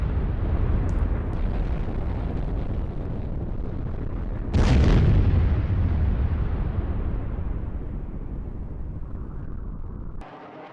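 A cluster bomb blast in an animation rumbles as a long, low, booming roar, with a sharper burst midway that swells and then slowly fades before cutting off abruptly.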